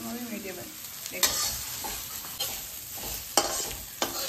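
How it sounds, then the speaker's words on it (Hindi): Nimona ingredients frying in a pan over a medium flame give a soft, continuous sizzle, with occasional sharp scrapes and taps of a spoon against the pan, close by and without talk. "इसको मैक्सिमम 5 मिनट तक फ्राई करना है, मीडियम फ्लेम पे।"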